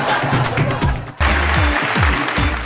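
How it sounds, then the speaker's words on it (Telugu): Studio audience on a Telugu television game show breaks into applause, a dense clapping wash that dips briefly then swells back up loud and steady, with a few low thumps and a host's voice faintly under it. "క్లాప్స్."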